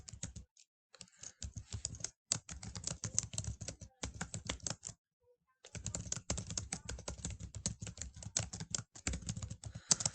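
Someone types on a computer keyboard in rapid bursts of dense clicking keystrokes, close and fairly quiet, separated by short pauses.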